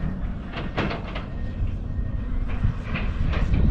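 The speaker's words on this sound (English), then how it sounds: "And the noise you hear is construction. They're putting in culverts." Roadside construction crew installing culverts near an old 1933 bridge on the Apache Trail in Tonto National Forest, giving a steady low rumble of machinery with scattered metallic clanks and knocks, moderately loud and continuous throughout.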